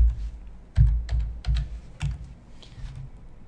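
Keys are tapped on a computer keyboard to enter a password at a login screen, about eight separate clicks in an uneven rhythm, close and distinct against a quiet room.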